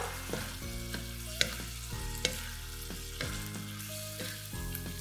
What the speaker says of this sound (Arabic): هننزل بيه على السمك والجمبري، هناخده تقليبه